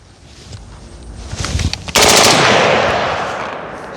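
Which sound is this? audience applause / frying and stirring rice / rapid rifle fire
rapid rifle fire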